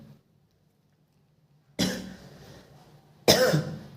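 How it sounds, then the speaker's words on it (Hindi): Two coughs, close and fairly loud, the first at about two seconds and a second sharper one near the end, each with a brief rough tail. "थोड़ा सा खांसी आ गई।"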